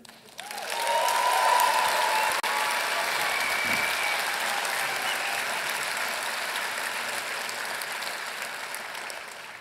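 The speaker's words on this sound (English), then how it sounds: "the applause sounds so beautiful" An audience breaks into applause, rising quickly to a dense, loud, sustained clapping that carries on for nearly ten seconds with only a slow fade.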